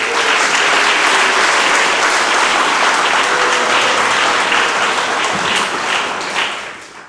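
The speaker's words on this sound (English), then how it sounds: "I would like to ask you to join me and thank and applaud for" An audience gives sustained, dense applause after an ambassador's speech at a Kwibohora 22 liberation commemoration. The clapping is loud and steady throughout, then tapers off near the end.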